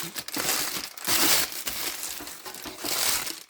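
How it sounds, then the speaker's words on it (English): Parchment paper is crumpled by hand into a ball, loud close crinkling in several bursts with brief pauses between them. "I take parchment paper and I crumble it up"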